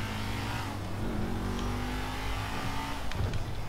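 A fast car's engine revs steadily in Grand Theft Auto V, a low sustained drone with shifting pitch that holds at a moderate level for a few seconds without talk.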